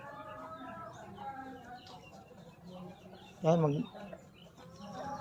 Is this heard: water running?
no